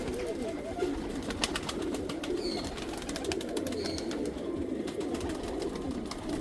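Pigeons coo softly and repeatedly amid a steady bed of background bird noise and ambience, with no clear talk over them; an older breeding pigeon of the Rampuriya type is among them.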